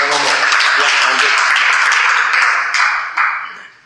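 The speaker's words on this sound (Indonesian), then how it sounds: "ya tepuk tangan buat Insan" Audience applause in an Indonesian church service, a dense wash of clapping sustained for about three seconds before tapering off, with a few last claps at the end.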